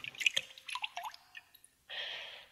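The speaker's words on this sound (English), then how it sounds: "He grabbed Rod by the back of the neck and thrust his head deep into the pail of water." A head is thrust into a pail of water, giving a burst of bright sloshing and dripping splashes that fade into scattered drips, then a steady broad wet rush, close and fairly quiet.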